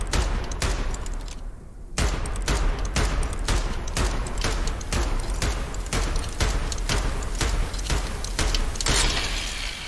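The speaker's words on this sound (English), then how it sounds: "I mean, it's a twin barrel machine gun." Twin-barrel machine gun firing in the video game Choo Choo Charles, a loud rapid stream of regular bursts with a brief pause near two seconds, then sustained fire to the end.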